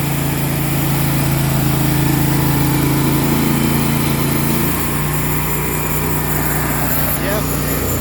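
A sawmill with a bad motor runs loud and close, a steady buzzing engine drone that shifts lower in pitch partway through and continues rough and unchanging afterward.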